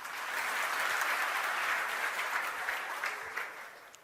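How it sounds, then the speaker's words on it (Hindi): Students in a classroom clapping for themselves, a burst of fairly quiet, dense applause that holds for a few seconds and then tapers off. "और खुद के लिए जोरदार तालियां बजा दो।"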